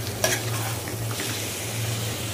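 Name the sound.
chicken being stirred and fried in a pan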